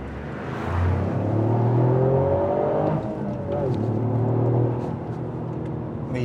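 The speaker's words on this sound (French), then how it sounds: "Le turbo il souffle." Toyota Yaris with its turbocharged engine revving up under acceleration, a close, steady drone whose pitch climbs and drops in sweeps before rising again, with the turbo whooshing throughout.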